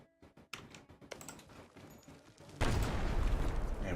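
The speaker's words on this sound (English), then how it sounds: "Naval barrage." A naval barrage in the strategy game Europa Universalis IV starts as scattered sharp cannon reports, then swells into a loud, dense rumbling volley of booms that keeps rolling.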